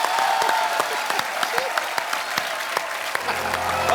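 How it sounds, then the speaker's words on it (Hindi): A studio audience on a comedy talk show bursts into applause, with dense, steady clapping from a crowd throughout. A voice speaks briefly underneath. "तालियां।"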